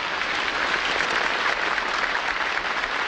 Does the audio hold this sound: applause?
yes